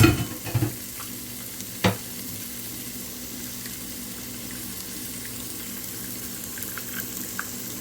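Garlic sautés in olive oil in a pan, a soft, steady sizzle at close range after a brief burst of clatter and water noise at the start, with a single sharp knock partway through and no speech.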